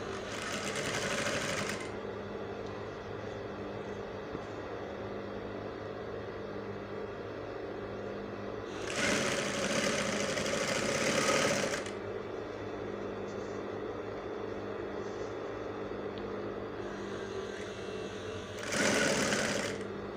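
A sewing machine stitching non-fraying kaftan fabric: three close, steady whirring runs, the middle one longest, separated by quieter pauses.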